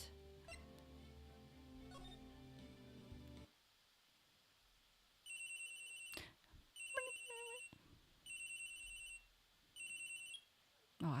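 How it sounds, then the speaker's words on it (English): In the video game Phoenix Wright: Ace Attorney, an old cell phone ringtone plays as four or five repeated electronic beeping bursts after a stretch of game music. "Oh, I forgot that's how cell phone ringtone used to sound like."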